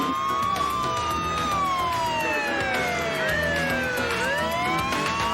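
Multiple wailing police sirens from California Highway Patrol cars in a highway pursuit of a white Dodge pickup, overlapping and sweeping up and down over steady road and engine noise.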